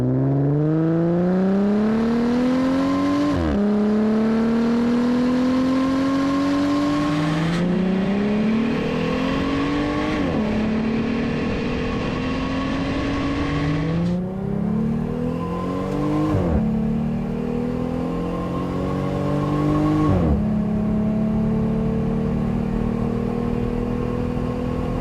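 A modified Jeep Gladiator Iron Side's engine revs repeatedly from low RPM, each pull climbing in pitch through the gears before dropping and starting again, a loud, close, throaty roar for the whole stretch without voices.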